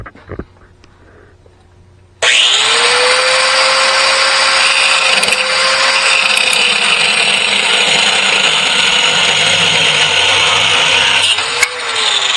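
A cut-off wheel grinder cutting under a Loadstar truck front end, starting abruptly after a quiet moment and then running loud, close and steady in a harsh high whine for about ten seconds, with no talking.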